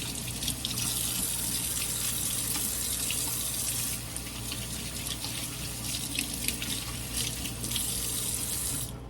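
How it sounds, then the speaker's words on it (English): Water runs from a kitchen sink tap while hands are washed beneath it, a steady hiss with splashing changes as the flow is interrupted, continuous and fairly quiet. "I'm going to wash my hands real quick since I just touched meat."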